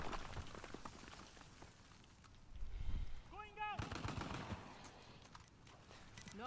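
Gunfire in the action game Uncharted: The Lost Legacy, with scattered shots and bursts rattling against a busy game soundscape, including a loud boom near the middle.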